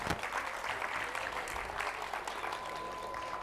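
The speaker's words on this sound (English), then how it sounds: "Let's appreciate them with a big round of applause." An audience at a preschool annual day claps for a children's yoga performance, giving dense, steady applause from a crowd that holds at an even level throughout.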